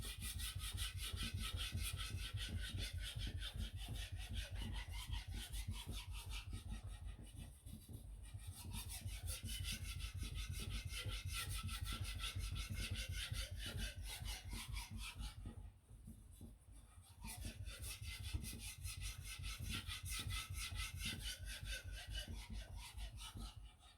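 A knife blade rasps back and forth on a sharpening stone in quick steady strokes, close and fairly quiet, with two brief pauses between runs as the blade is repositioned.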